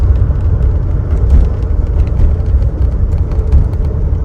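A one-owner 1981 DeLorean DMC-12 with a 5-speed runs at a steady idle, giving a continuous low rumble that holds at an even level with no voices over it.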